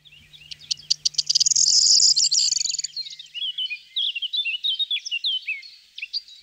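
Corn bunting song: a few stuttering ticks speed up into a loud, jangling buzz, like shaken keys, then trail into scattered chirps and twitters of other birds nearby.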